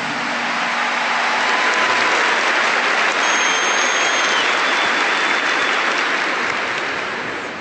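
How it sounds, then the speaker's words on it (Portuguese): Church audience applauding musicians, a loud, dense and sustained clapping from a large crowd that swells and fades gently over several seconds, with no talk over it. "Então vamos aplaudir os nossos músicos."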